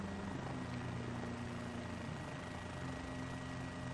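A helicopter flies in Microsoft Flight Simulator over the Nürburgring, producing a continuous low rotor and engine drone that stays steady and fairly faint throughout, with no talking.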